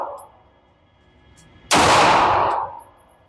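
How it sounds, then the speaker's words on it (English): A single loud gunshot at an outdoor shooting range cracks sharply up close and rings out in a fading tail after a quiet stretch. "We run a couple more shots."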